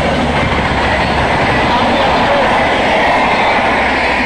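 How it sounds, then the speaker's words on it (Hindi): A Clone Express train passes at speed close by, a loud continuous roar and rumble of wheels and coaches that stays steady throughout with no pauses. "आप देख सकते हैं उधर से ही दूसरी ट्रेन आ गई।"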